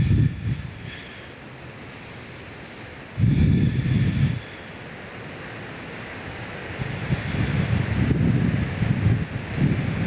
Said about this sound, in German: es ist ziemlich windig heute wieder hier an der Küste